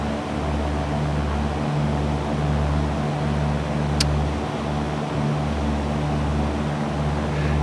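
A Cessna propeller engine drones steadily at full power while climbing after takeoff in X-Plane 11, a loud continuous hum with a brief click partway through and no talking.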